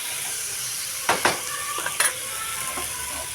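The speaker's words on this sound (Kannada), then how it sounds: "ಬೆಂಡೆಕಾಯಿ ಹಾಕ್ಕೊಂಡು ಮಿಕ್ಸ್ ಮಾಡಿ ಈಗ ಲೋ ಫ್ಲೇಮ್ದಾಗಿಟ್ಟು ನಾವು ಇದನ್ನು ಬೇಯಿಸ್ಕೋಬೇಕು ಪಲ್ಯನ" Okra is stirred as it fries in a pan of spiced oil, a soft steady sizzle broken by a few close scraping stirs of a utensil, with no talk.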